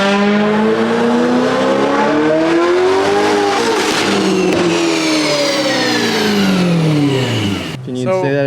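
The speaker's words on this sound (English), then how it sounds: "running the dyno right now" A tuned and modified Mini Cooper engine revs hard on a dyno, loud and close, its pitch sweeping up and down in sustained pulls before cutting off abruptly near the end.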